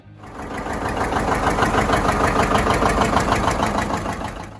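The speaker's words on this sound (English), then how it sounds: "The John Deere 730 diesel." A John Deere 730 diesel two-cylinder tractor engine runs with a rapid, even chugging beat, loud and close, swelling up and then easing off toward the end, with no speech.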